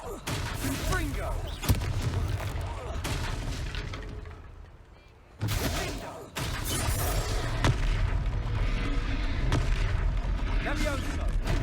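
Confringo explosive spells blast during a troll fight in Hogwarts Legacy, producing heavy booms and sharp impacts amid rumbling combat noise, with a brief lull partway through before the loud action resumes.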